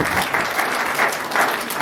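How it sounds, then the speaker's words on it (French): A church congregation at a prayer service claps in a loud, dense burst of applause that fills the whole short moment, rhythmic swells of many hands close by. "On acclame le Seigneur."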